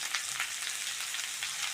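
Steamed young jackfruit fries and gets stirred in a pan, giving a soft, continuous sizzle with faint scraping, close by and fairly quiet, with no talking.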